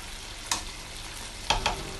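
Catfish going into a pot of African potato-leaf vegetable soup, a steady low sizzle broken by three sharp stirring clatters, one early and two close together later.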